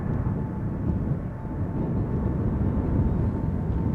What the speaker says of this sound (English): KLM Flight 755 up next